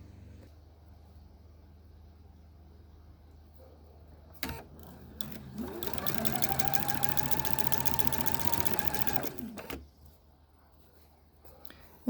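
A sewing machine chain-pieces quilt block pieces, with a brief click, then a steady rapid whirring run of about four seconds, close and clear, ending with a quick stop.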